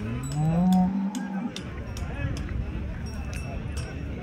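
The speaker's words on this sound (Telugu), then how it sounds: "కనిపించేటివన్నీ ఆవులు ఇవి" At a Punganur dairy farm with Jersey and HF breed cows, one cow gives a loud, near moo at the start, followed by steady barn ambience with scattered clicks and clatter.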